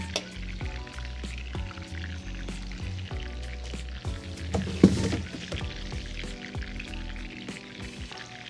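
Breaded chicken milanese fries in hot oil, bubbling and crackling steadily at close range with irregular pops and one sharp louder spatter midway.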